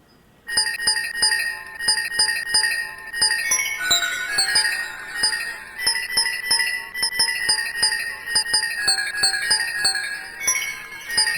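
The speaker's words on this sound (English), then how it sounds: "So that's an instrument that I've created with the jingle bell sound." A sampled instrument built from a jingle bell sound plays a bright, ringing melody with rapid metallic jingles and clinks in a steady rhythm, loud and alone.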